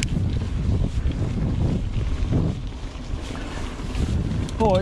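Wind rushes past on a mountain bike trail, a continuous low buffeting with gusty swells under the ride, plus a brief high squeak right at the end.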